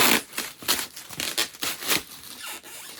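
Tape ripped off a box in a series of quick, rasping tears and crinkles, close up, with no talking.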